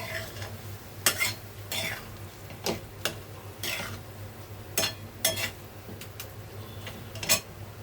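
Small saree fish frying in a pan are stirred and mixed, with repeated sharp scrapes and utensil clicks over a steady sizzle and a low hum.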